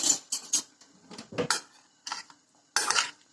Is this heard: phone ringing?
no